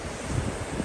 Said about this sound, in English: but yeah, it's pretty windy.